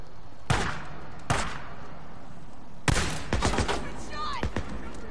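Gunfire in the video game Days Gone: several sharp, loud shots burst out one after another, spaced a second or so apart, followed by a busier cluster of cracks with a whistling tail near the end.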